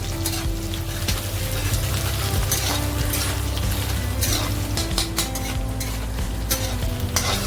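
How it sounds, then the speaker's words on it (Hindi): Chopped vegetables and round red chillies sauté in hot oil for a Punjabi-style tori sabzi. A loud, continuous sizzle runs under frequent scraping and clinking of a spoon stirring the pan, with no speech. "इनको ट्रांसलूसेंट होने तक सॉटे कर लीजिए ऑयल में।"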